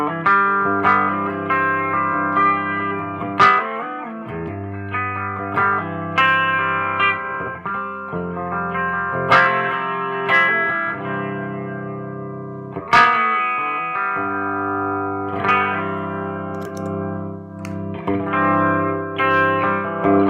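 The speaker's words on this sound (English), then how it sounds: "I'll go ahead and turn it low, and we got this clean sound" Clean electric guitar through a Lovepedal Baby Tremolo set low, picked notes and chords ringing out with gentle pulsing volume and some reverb, steady and moderately loud with no voices.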